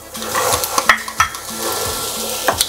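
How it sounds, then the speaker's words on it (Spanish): Red onion fries in a pot, hissing steadily while a utensil stirs and scrapes against the metal in a loose rhythm of several knocks, close and fairly loud. "Ponemos aquí la cebolla morada."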